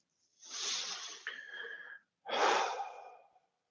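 Two long, slow, audible breaths during a yoga routine, one drawn-out airy breath and then another after a short pause, close to the microphone with no other sound.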